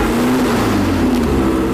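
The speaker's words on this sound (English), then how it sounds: "At the minute, it's just the noise, the tone of the engine." A car engine revs on a dyno, a loud, steady, sustained drone that holds a high, smooth tone throughout with no pauses.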